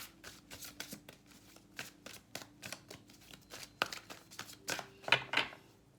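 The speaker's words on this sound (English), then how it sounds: "I was shuffling so vigorously here for you." Playing cards are shuffled vigorously and close up in a rapid string of crisp riffling bursts, with a low steady hum underneath and no talking.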